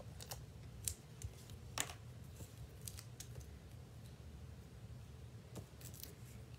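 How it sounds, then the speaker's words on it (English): Scissors cutting paper to shape a snail for a handmade card, heard as faint, close, irregular snips and crisp paper crinkles over a quiet room hum. "using scissors because unfortunately there is not a die for him today"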